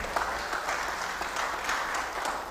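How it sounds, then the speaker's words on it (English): Small audience clapping for a child at a church gathering, a brief, fairly quiet patter of hands that runs evenly for a couple of seconds. "Clap for him."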